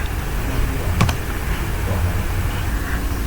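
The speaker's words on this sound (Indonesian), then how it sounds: "kita ketik perintah su, lalu enter" A few keystrokes on a computer keyboard type the short su command and press enter, a single crisp click standing out over a steady background hiss.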